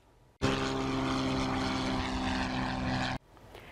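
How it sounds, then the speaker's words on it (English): Small propeller airplane from a flight academy in North Myrtle Beach, on a supply-drop flight, passes loud and steady: a droning prop engine fades in abruptly, holds for about three seconds, then cuts away. "Falcon Flight Academy in North Myrtle Beach is using their small airplanes to make crucial"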